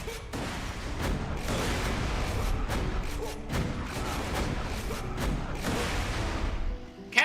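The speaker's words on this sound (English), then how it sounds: "Shooting explosive jack-o'-lanterns." The Jackal Cannon, a Torgue shotgun in a Borderlands video game, fires explosive jack-o'-lanterns, giving a rapid run of booming blasts and crashing detonations that overlap densely for several seconds before a sharper final hit.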